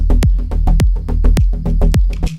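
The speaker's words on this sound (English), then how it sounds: "The term thick was coined for bass sounds like this." A thick, heavy synth bass built on the Diva synthesizer with a squarish oscillator pulses in about ten punchy, pitch-dropping hits in a tight rhythm, loud and close, ending with a brief fade.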